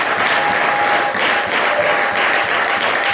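A church congregation at a gathering in Rubandaga, Uganda breaks into loud, sustained applause, a thick continuous roar of many hands clapping close by.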